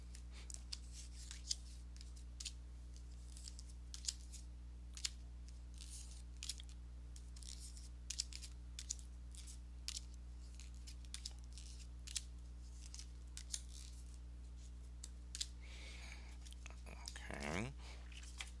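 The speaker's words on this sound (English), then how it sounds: "let me go ahead and give these cards a shuffle" A tarot deck is shuffled quietly over a steady low hum, with soft, repeated card riffles and snaps scattered at irregular intervals and a brief faint voice near the end.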